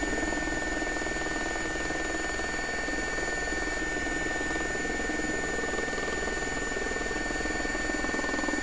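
An SA342 Gazelle helicopter in a flight simulator game hums with a steady turbine whine and a low rotor drone, continuous and even throughout with no voices.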